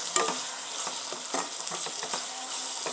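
Ginger garlic paste frying in a pan with onions for a prawn curry, a close sizzle broken by repeated scraping stirs and light clinks of a spoon in an uneven rhythm.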